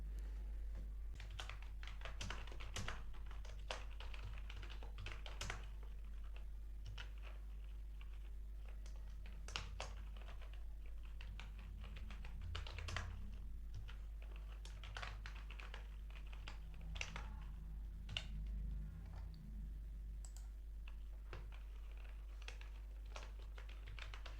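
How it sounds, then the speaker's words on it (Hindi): Typing on a computer keyboard while entering data into an Excel spreadsheet: a steady patter of light key taps runs throughout over a constant low hum, with no talking. "मैं अभी थोड़ा सा डेटा टाइप कर लेता हूँ।"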